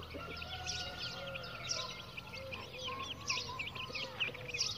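Hens and a rooster in a coop call and cluck continuously, a busy overlapping chorus of squawks and chirps at moderate distance, fairly quiet overall.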